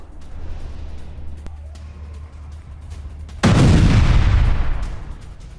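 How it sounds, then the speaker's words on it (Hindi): Artillery and gunfire from strikes on residential areas of Kafr Tibnit, Lebanon: a low rumble and a thin crack give way to a loud, sustained burst of blasts and heavy roar in the second half. "रिहायशी इलाकों में किया गया बारूदी प्रहार।"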